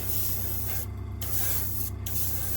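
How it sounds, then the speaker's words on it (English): An airbrush sprays paint onto a model railway piece, giving a steady close hiss that briefly stops twice. The airbrush has not been used for weeks and is spraying unevenly. "I haven't used the airbrush in a few weeks, and as such it's not spraying particularly clearly"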